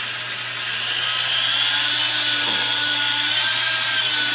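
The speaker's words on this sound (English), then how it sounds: "just inexpensive electric drill and a mixer," An inexpensive electric drill fitted with a paint mixer paddle whirs steadily while stirring laundry soap powder, a loud high motor whine holding constant throughout.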